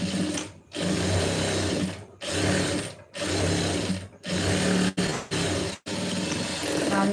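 Sewing machine stitching a blouse seam in a tailoring lesson, running in several loud bursts separated by short pauses, with a steady mechanical whir and low hum throughout.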